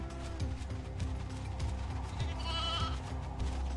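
Sheep bleating in Final Fantasy XIII-2, a few wavering bleats over steady game music and mechanical ticking, with no one talking.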